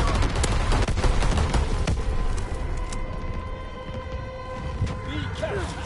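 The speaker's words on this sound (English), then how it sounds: "Enemy anti-aircraft fire." Anti-aircraft fire and distant gunfire rattle on without pause through a Call of Duty WW2 battle, mixed with booms, tonal game effects and faint radio-style voices throughout.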